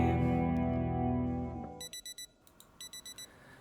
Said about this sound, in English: So we're relying on the alarm again to wake us up.